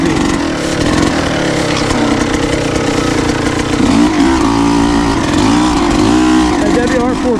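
A 450 dirt bike engine revs hard on a leaf-covered trail, a loud, steady, buzzing drone with rising and falling throttle surges, while someone talks over it.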